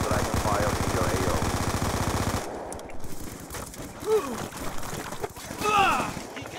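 Hostile Dragonfire drone gunfire in Call of Duty Black Ops 2 multiplayer, a loud, continuous rapid rattle of automatic fire that cuts off abruptly, followed by quieter game sounds and a voice speaking.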